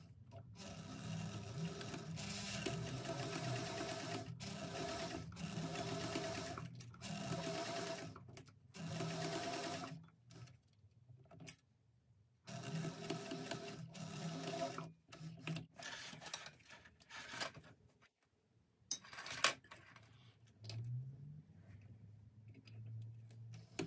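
A sewing machine bastes a seam on a Kelzjon bag, stitching in a steady close mechanical whir with a few stops and restarts, quiet overall and with no voices.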